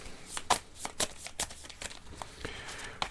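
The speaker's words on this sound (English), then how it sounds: "I need to give these a shuffle." Game cards being shuffled by hand during a solo ISS Vanguard board game session: a few sharp riffling bursts with brief pauses between them, close and fairly quiet, with no talking.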